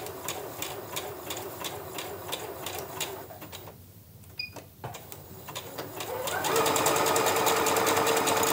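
A sewing machine stitching a fabric appliqué antenna onto a cloth bag, with rapid rhythmic needle clatter that pauses briefly in the middle, then resumes louder and steadier with a whirring motor.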